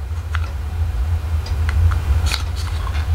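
A paper punch cutting through card, with several short crisp clicks and snips spaced irregularly over a low steady background hum, close by.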